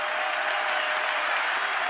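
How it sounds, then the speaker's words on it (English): Crowd at a Canisius vs Arizona college men's basketball game applauds player Motiejus Krivas, a steady, full roar of clapping that fills the arena without letup. "Big round of applause for Motiejus Krivas as he finds his way back in."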